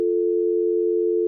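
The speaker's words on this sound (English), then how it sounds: "Wow, it's the same dial tone." A steady, continuous telephone dial tone, a single clean pitch held without a break.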